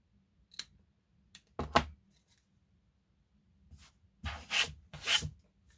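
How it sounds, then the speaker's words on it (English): Scissors snip away excess hot-glued material on a handmade standing Christmas craft house, a few short crisp cuts and rustles, close and quiet with pauses between. "And then I'll cut the excess."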